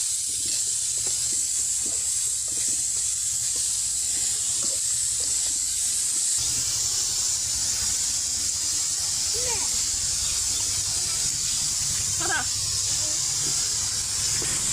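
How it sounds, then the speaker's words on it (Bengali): Kalai greens sizzle in a frying pan with red chillies already fried in it, a continuous bright hiss broken by soft scrapes and knocks as they are stirred. "এখন শাকটা দিয়ে দেওয়া হচ্ছে। শাকটা দিয়ে ভালো করে নাড়াচাড়া দিয়ে নেওয়া হচ্ছে।"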